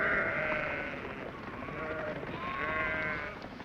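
Sheep bleat a few times against a soft outdoor background, wavering calls rising and fading at moderate distance.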